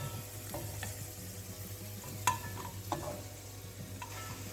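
Golden raisins frying in hot ghee for kesari pongal, a soft steady sizzle with occasional light pops and a few utensil clicks, close and fairly quiet, no talking.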